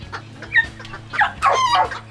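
Chickens cluck and squawk at a county fair with livestock, giving several close, uneven calls in quick succession.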